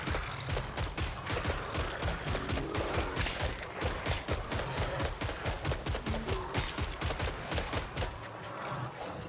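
Weapons fire in rapid, unbroken bursts in Killing Floor 3, a dense loud stream of shots lasting several seconds before tapering off near the end, with no talking.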